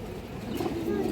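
Pure blood-line pigeons coo softly close by in a brief, low, murmuring call over faint background noise.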